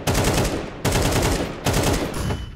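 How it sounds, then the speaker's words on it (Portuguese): Three long bursts of rapid automatic gunfire in Counter-Strike, loud and close, separated by brief gaps, with a faint electronic tone near the end. "Os tiros não pega"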